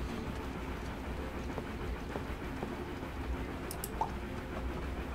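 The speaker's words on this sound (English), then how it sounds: "Oh, you can have a train." A train rolls along in the video game Dorfromantik, a steady low rumble with soft rail clatter running unbroken under faint chimes, no voices.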